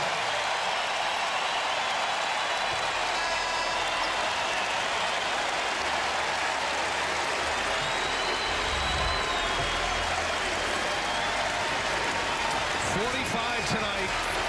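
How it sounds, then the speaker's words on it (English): A college basketball arena crowd roars and cheers in a sustained ovation for a home star player, a loud continuous wall of noise with a commentator talking over it. "listen to this crowd give their star"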